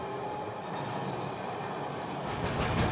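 Train passing in the video game Frostpunk 2: a continuous broadband rumble and rattle of rolling rail cars, steady and close, swelling slightly near the end, with no voices.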